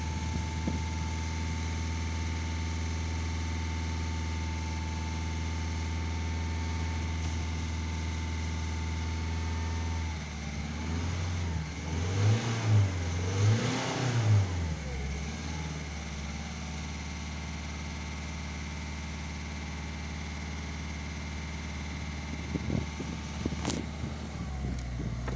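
A Volvo S40 1.6 HDi diesel engine with a fuel pressure fault runs steadily after a restart, a continuous low idle drone with a brief rougher surge partway through and no talk.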